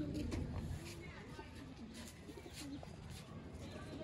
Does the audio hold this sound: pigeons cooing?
yes